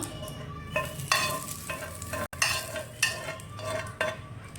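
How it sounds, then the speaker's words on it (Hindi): Oil sizzles and crackles steadily in a hot pan over high heat, frying a tempering for radish chutney, with periodic bursts of stirring scrapes and louder spits. "ये तेज़ आंच पे मैं इसको 1 मिनट के लिए फ्राई करूँगी।"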